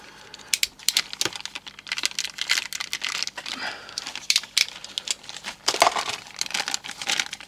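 A knife cuts and tears into stiff plastic packaging around miniature figures, giving irregular close crinkles, snaps and scratchy rips in uneven bursts, with no talking.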